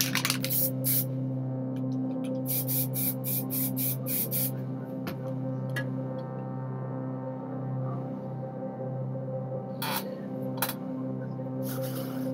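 Aerosol spray paint cans used for spray paint art of a castle, heard as short, sharp hissing bursts that repeat in clusters over a steady humming background.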